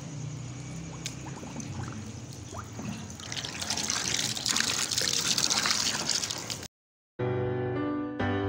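Water pours steadily from a pipe into a tub, a continuous close splashing trickle that swells louder midway, then cuts out briefly before resuming.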